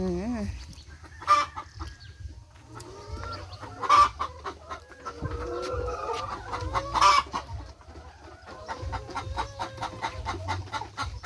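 Chickens cluck and a rooster crows repeatedly near a farmyard henhouse where hens have begun laying eggs, with louder calls around seconds 1, 4 and 7 over steady low rural background noise.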